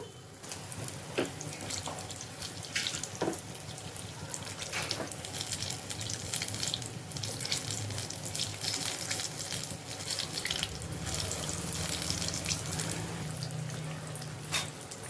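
Spoonfuls of snack batter drop into hot oil and fry with a constant, fairly faint bubbling hiss and occasional sharp crackles, steady throughout with no talk.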